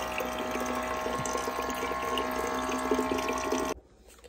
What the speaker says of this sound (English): I'm going to refill my water